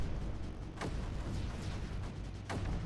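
Cannon fire in the strategy game Creeper World 4, dull booming shots over a constant rumbling game background, two or three sharper bursts standing out amid the steady noise.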